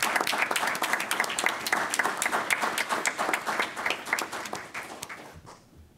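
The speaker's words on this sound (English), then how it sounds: "I think he deserves a round of applause" An audience breaks into a sustained round of applause at a Los Angeles Fire Commission ceremony honoring an LAFD battalion chief, dense clapping filling the room before fading out near the end.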